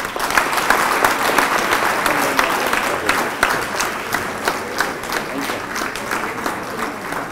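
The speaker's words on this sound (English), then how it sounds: "I was thinking you are still clapping" A crowd at an agriculture youth event claps continuously, the dense clapping punctuated by sharper individual claps and keeping a fairly even level to the end.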